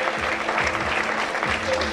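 An audience applauds the home player's introduction before a French league table tennis match between Roanne and Nice Cavigal: dense, steady clapping fills the whole moment, with a voice speaking over it.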